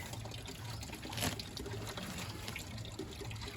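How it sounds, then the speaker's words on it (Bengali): Running water pours over cocopeat to wash it, a faint, steady trickle and splash that continues throughout with no talking. "এর মধ্যে জল দিয়ে ধোয়া ওয়াশ করে একদম পরিষ্কার হয়ে যাবে কোকোপিট"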